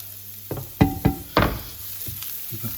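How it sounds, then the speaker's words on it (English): Garlic and chili hit a hot pan of softened onions for chilli con carne: a few sharp close sizzling bursts with knocks of utensils, settling into a low steady fry. "I'm now going to add into the pan the garlic and my optional chili."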